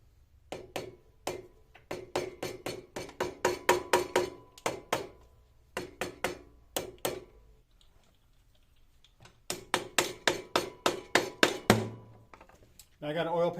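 Quick runs of sharp, close hammer taps during a Honda Rebel clutch replacement, in two clusters separated by a short quiet gap, a voice briefly speaking near the end.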